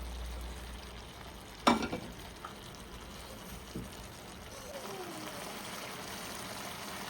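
Chicken curry frying with chicken masala in a pan, a steady soft sizzle throughout with one sharp clatter of a spoon or lid early on and faint stirring scrapes.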